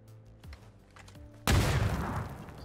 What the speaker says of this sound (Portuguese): O que eu gosto de fazer nessa distância é, tipo, dar um tiro, tirar a cara,